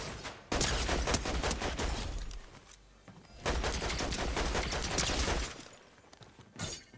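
Rapid automatic gunfire in Fortnite, two long dense bursts of shots separated by a brief pause, loud and close, ending with a short final volley.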